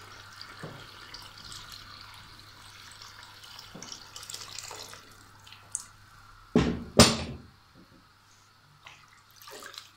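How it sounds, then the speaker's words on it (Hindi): Water is poured into a pot of spiced rice for chicken pulao, a faint trickling wash with a couple of sharp clattering knocks near the end. "चावलों के हिसाब से पानी डालेंगे।"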